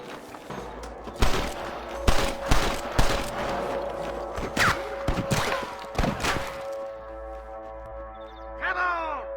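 Sniper and gunfire shots ring out in a Red Dead Redemption shootout on PC, a rapid run of loud sharp cracks and thuds with echoing tails, mixed with shouting voices and fading to quieter ambience near the end.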